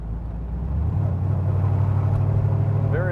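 A 1966 Chevrolet Corvette convertible drives along with a steady engine drone from inside the car, the low rumble building slightly as it gets underway.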